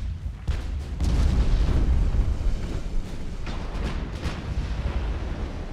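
A warship blows apart from an ammunition detonation in the naval combat game Ultimate Admiral: Dreadnoughts, a sustained deep rumbling explosion with crackling bursts rolling on for several seconds, loud and close, with no talk.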